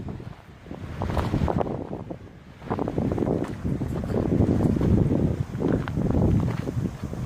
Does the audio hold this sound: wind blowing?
yes